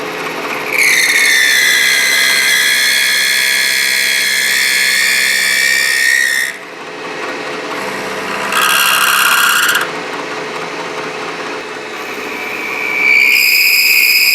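Drill boring through sword pieces clamped together in a vise, a loud high whine sustained for several seconds, then shorter bursts with pitch changes as the bit cuts through the metal.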